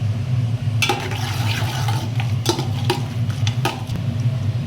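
Whole cinnamon and cardamom heating in a hot pan, a steady low sizzle with a few sharp clinks and scrapes of a utensil against the pan scattered through, no talking.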